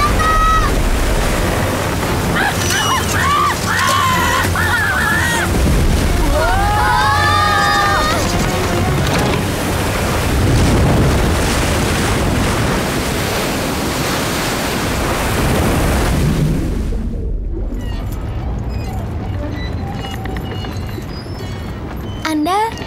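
Ocean surf in an animated Bible story of Jonah, a continuous broad roar of waves beneath animated voices talking, with splashy bursts before the sound cuts to quieter surroundings near the end.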